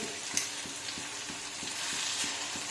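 Hot butter with dried chili powder is poured as a tempering over dal makhani, producing a close, steady frying sizzle with soft rhythmic ticking underneath.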